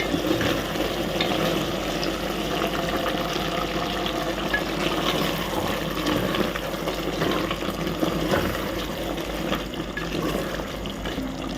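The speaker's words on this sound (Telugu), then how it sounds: "దీంట్లో మనం మిక్సీ చేసుకున్న టమాటాను ఈ గ్రేవీని ఇందులో వేసుకుందాం." Blended tomato gravy is poured into sizzling chicken curry in a pan, making a loud, steady, wet hiss and bubbling that fills the whole stretch without pause.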